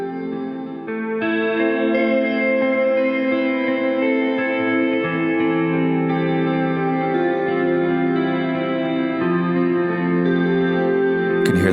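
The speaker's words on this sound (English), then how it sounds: "You can hear that slow modulation in tape mode, just creating this lovely warble" An Old Blood Noise Endeavors Sunlight reverb pedal in tape mode, sustained chords washing out with slow, wavering pitch modulation and lush reverb tails, steady and moderately loud with no talking.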